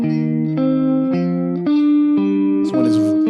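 Electric guitar playing a finger-independence exercise, alternating a low note and a high note in a steady pattern, sustained tones ringing through an effects unit with slight distortion, close and alone.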